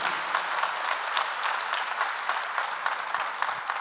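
A Catholic congregation at a healing Mass applauds in steady, dense clapping, moderately loud and continuous throughout with no voices over it.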